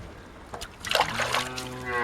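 Milk squirts and splatters into a pail as a cow is hand-milked, a few soft wet bursts close by, with a person speaking briefly over them.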